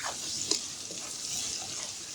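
Onions frying in a pan for a pork dish make a steady, close sizzle, with a brief stirring clatter near the start and no voices.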